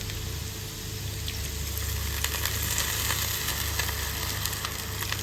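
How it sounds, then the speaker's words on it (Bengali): Aloo potol curry (potato and pointed gourd) frying and sizzling in a pan as water is added, a steady dense crackle holding evenly throughout with a low hum underneath. "দিয়ে দিচ্ছি পরিমাণ মতো জল।"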